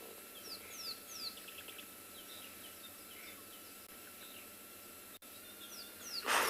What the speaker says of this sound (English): I can hear a black cuckoo in the background.